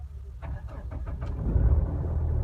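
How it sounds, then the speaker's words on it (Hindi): Mahindra Bolero engine cranks with a few quick starter pulses, then catches and settles into a low, steady rumble close by. "अभी जैसे मैं स्टार्ट करूँगा ना गाड़ी को"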